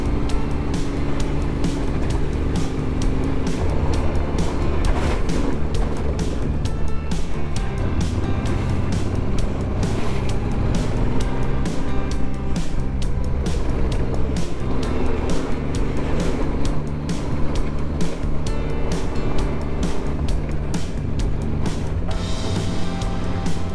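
A CF Moto CL-X700 Adventure motorcycle rides off-road, its engine a loud continuous rumble with a steady pulsing beat, rising and falling in pitch as the rider works the throttle over rough ground.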